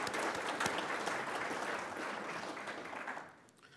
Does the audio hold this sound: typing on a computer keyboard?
no